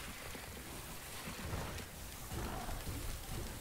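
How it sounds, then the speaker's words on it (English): Steady rain with low rumbling thunder in the video game Risk of Rain 2, a dense continuous wash of noise at moderate loudness. "Oh, it's lightning."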